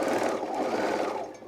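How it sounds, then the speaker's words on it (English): Overlock serger stitching along the edge of fleece fabric for a pullover hem, a close, fast, steady mechanical hum that runs continuously and then eases off at the end. "I'm gonna overlock the edge because I'm gonna kind of do the fake flat lock"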